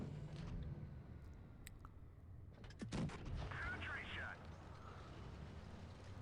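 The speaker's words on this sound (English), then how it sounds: "So now we're getting some good shots in, and we can finish him off." Tank cannon shots in World of Tanks, a single booming blast mid-way with rumbling engine and battle noise beneath, quiet and muffled, while someone talks over the game.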